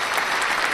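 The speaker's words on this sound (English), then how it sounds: "give that a clap as well" A short burst of canned clapping, used as a sound effect during a livestreamed PulseChain crypto launch countdown. It is brief, bright and steady, and no voice is heard.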